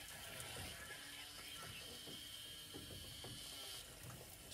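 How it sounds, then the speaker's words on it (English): Water trickling and rushing through a plumbing valve as it is cracked open on a heating system, a steady faint hiss with small gurgles and mechanical clicks, close up and without talk. "So you'll hear that when I get to the sweet spot, the water starts to come through."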